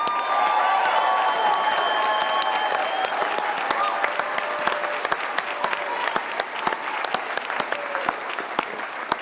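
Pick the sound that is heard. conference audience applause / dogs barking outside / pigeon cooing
conference audience applause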